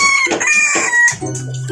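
Bantam and half-labuyo backyard chickens cluck and call nearby, a few sharp loud clucks and a brief crow-like cry followed by lower, softer murmuring clucks.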